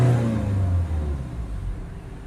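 A Peugeot Boxer 2.0 diesel van, fitted with a new particle filter, revs its engine: a close, throaty mid-pitched roar that peaks at the start and then gradually drops away.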